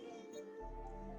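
A pet cat lets out a single drawn-out, wavering meow close by, loud and clear over a faint background hum.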